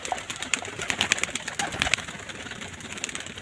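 Pigeons of fine breeds kept in a loft coo repeatedly, with several overlapping soft calls and occasional wing flutters, fairly close, without any voices.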